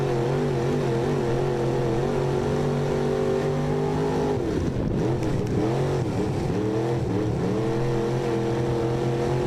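Race cars run at Maquoketa Speedway, a steady, dense engine drone that dips and then climbs again in pitch midway, as if easing off and accelerating, heard alone.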